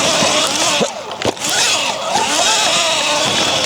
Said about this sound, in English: Just spinning out like crazy on this grass.